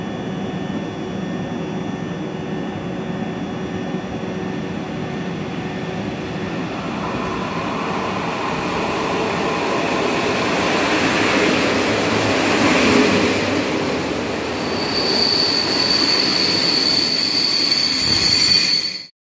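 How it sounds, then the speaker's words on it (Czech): Steady loud rumble inside a moving Moravan railcar on the way to Znojmo, with rolling wheel noise, rattling and high squeals rising toward the end, continuous throughout. "tam bylo docela dost hluku ve vlaku"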